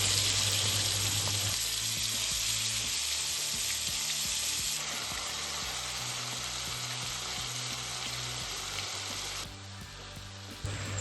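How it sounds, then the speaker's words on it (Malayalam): Steady, loud sizzling of chicken frying in hot oil for biryani, a dense crackling hiss that continues throughout with occasional stirring sounds. "ഇനി ചിക്കൻ പൊരിക്കാം"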